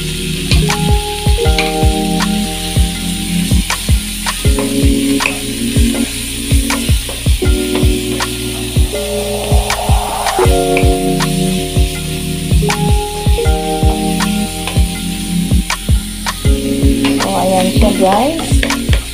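Coriander leaves sizzle and fry in a pan with cauliflower and ground beef, a continuous crackle with repeated stirring scrapes, heard under steady background music.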